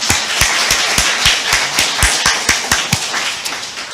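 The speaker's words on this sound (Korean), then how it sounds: "우리 하나님께 영광의 박수 드립니다" A congregation at a church service claps in praise, giving a loud, brisk, regular run of sharp individual claps with no voices over them.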